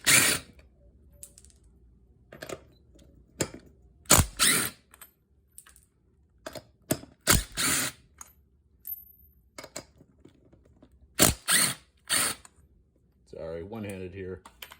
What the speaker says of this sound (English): let's remove the remaining 17mm nuts